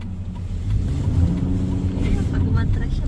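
A truck drives along a road covered in snow that has thinned to ice and slush on a quiet Sunday, giving a steady, fairly loud low engine rumble that runs for the whole moment.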